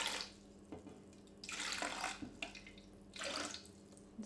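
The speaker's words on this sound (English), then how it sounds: "Now I'm going to pour out 150ml of hot water," Freshly boiled hot water, about 150 ml, pouring in short bursts, a faint close splashing trickle that swells and fades three times with quiet drips between.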